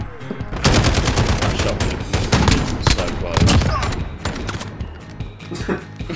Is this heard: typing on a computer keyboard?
no